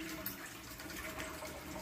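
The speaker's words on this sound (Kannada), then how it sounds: "ಒಂದು ಪ್ಯಾನ್ ಇಟ್ಕೊಂಡಿದ್ದೀನಿ ಈಗ ಆಯಿಲ್ ಹಾಕೊಳ್ತಿದ್ದೀನಿ" Cooking oil pours into a pan for an aloo capsicum curry, a soft, continuous liquid trickle heard close and fairly quiet for about two seconds.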